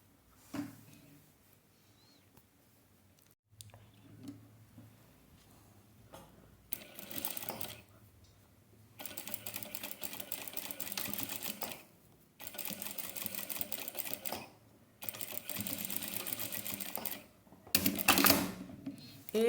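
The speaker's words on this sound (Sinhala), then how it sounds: "මෙතනින් මැහුම් පාරක් දාගන්න" An electric sewing machine stitches elastic onto a fabric waistband in repeated bursts of rapid mechanical clatter, each run stopping and starting again, heard close and alone.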